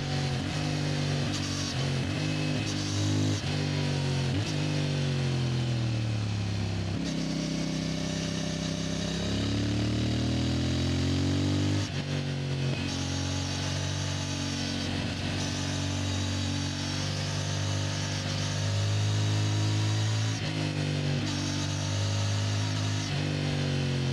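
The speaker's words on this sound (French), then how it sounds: "Parler un petit peu de la sonorité de cette moto que j'adore" A CF Moto MT450 motorcycle engine drones steadily while riding, its pitch rising and falling through gear changes and throttle shifts, loud and continuous with wind rush throughout.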